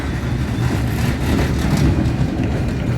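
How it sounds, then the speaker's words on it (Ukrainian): A new tram rolls past on a street in a Czech city, a steady, loud, broad rumble of wheels and motor that stays close and even throughout. "Ось трамвайчик якраз іде."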